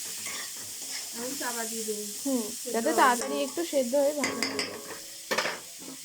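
Kurundi is stirred and fried in a pan with a little turmeric, soft sizzling and occasional scraping clinks under a voice talking over the cooking, the frying staying low and intermittent.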